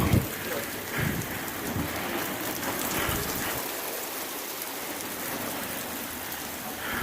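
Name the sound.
heavy rain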